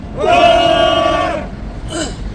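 A crowd at a civic group press conference outdoors shouts a cheer in unison, one loud sustained roar of voices lasting over a second, then a brief second shout.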